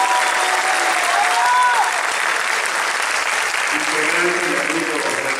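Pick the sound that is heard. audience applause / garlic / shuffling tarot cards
audience applause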